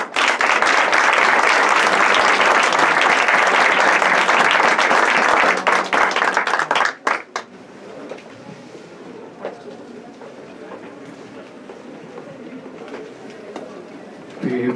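An audience applauds a panel on drinking-water and sanitation privatization, loud dense clapping for about seven seconds that stops abruptly, leaving a quiet room with faint rustling.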